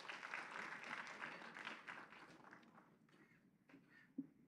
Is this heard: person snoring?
no